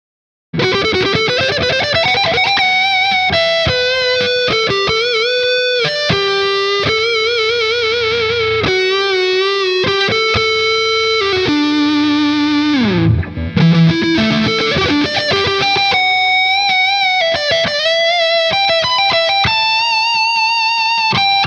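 An electric guitar played through a Firefly amp on a cheap Les Paul-style guitar, a loud distorted lead line with sustained bent notes and wavering vibrato, with one brief drop around the middle.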